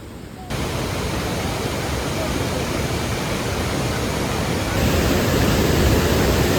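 Vazhachal waterfall roars as a dense, constant wash of rushing water heard up close, swelling louder toward the end.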